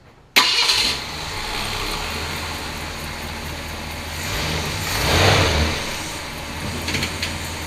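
A 1966 Ford Galaxie 500 convertible's engine cranks and catches at once, then settles into a steady idle with a brief rise in revs partway through.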